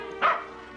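A dog gives a single short bark in a house near the stairs, one clear mid-close yelp standing out against a quiet room.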